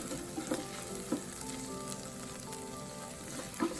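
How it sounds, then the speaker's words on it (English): Chopped onions fry and brown in an Instant Pot for Pav Bhaji, giving a steady close sizzle with a few louder crackling pops, and no voices. "The onions cooked well and it's browning."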